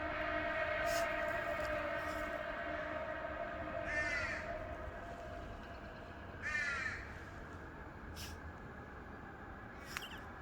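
A crow caws in an Oregon forest, two clear raspy calls spaced a couple of seconds apart over a steady distant hum.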